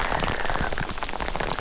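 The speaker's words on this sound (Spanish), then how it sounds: "estaba previsto que lloviera, pero no tanto" Heavy rain pours steadily on a mountain climb at around 2900 m, a dense, close hiss of drops hitting surfaces all around, with no voices.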